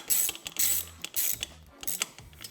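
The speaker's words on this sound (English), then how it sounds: "So we set our torque wrench to 80 inch-pounds." Torque wrench tightening the cylinder head on a Honda CB350 engine, set to 80 inch-pounds, making several close, crisp ratcheting clicks in short bursts with pauses between.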